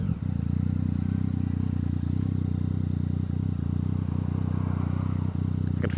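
A Yamaha MT-09 with an Akrapovic exhaust rumbles with a deep, steady, loud engine throb heard from the rider's position, a continuous low pulsing drone with faint clatter.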